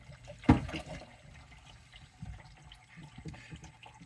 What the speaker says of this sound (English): Then we get 1 litre of water.